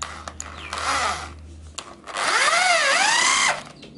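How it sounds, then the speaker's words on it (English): A power drill drives a screw into flat-pack furniture, its motor whining in two bursts with the pitch rising and falling as the bit bites and slows, close and fairly loud. "helps if you put the drill on the screwing in and not screwing out"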